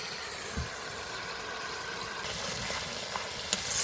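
Garlic paste frying in oil in a wok, a quiet continuous sizzle that grows slightly louder and busier toward the end, with a few soft scrapes and no talk.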